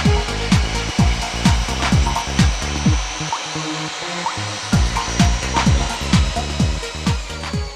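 A core drill cuts with water feed and suction extraction, giving repeated grinding, rasping strokes in a steady rhythm with a brief lull midway, loud and close with no talk.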